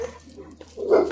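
A German Shepherd dog gives a brief bark or yelp, moderately loud and close, rising near the end of a short burst over faint background noise.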